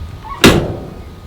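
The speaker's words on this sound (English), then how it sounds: "But there you go, that's the way the door should close." An Airstream travel trailer door shuts with a single sharp, close slam that fades quickly into quiet.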